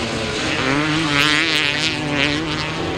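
Grasstrack racing motorcycle engines run at open throttle, a loud sustained engine roar with steady harmonics that rise and fall slightly throughout.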